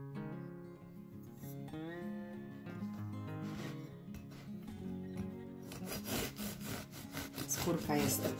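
A knife saws through a freshly baked, cooled onion bread loaf with a crunchy crust, giving steady close rasping strokes that grow louder and crisper toward the end.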